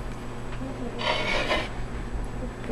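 Pigment paste is ground and scraped with a tool on a hard surface, a rasping scrape swelling for about half a second in the middle against quiet room noise.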